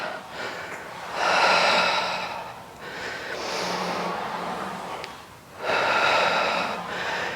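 Deep, audible breaths during an advanced Pilates reformer workout: three long, loud exhales separated by softer inhales, steady and close, with no talk.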